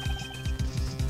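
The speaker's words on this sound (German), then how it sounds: "Ich habe gerade ein Telefon klingeln hören." A telephone ringtone in the Phoenix Wright: Ace Attorney video game: a quick repeating electronic trill, loud and close, pulsing in a steady rhythm with no voices.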